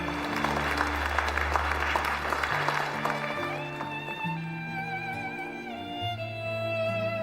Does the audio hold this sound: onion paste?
no